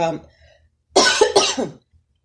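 A few harsh coughs in quick succession, close and fairly loud, like someone clearing baked beans caught in the throat.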